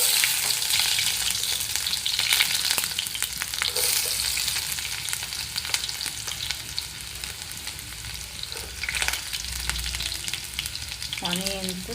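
Sliced onions and green chillies sizzle steadily in a hot pan for a mixed vegetable curry. The bubbling crackle is close and continuous, broken by scraping stirs and clinks of a spoon.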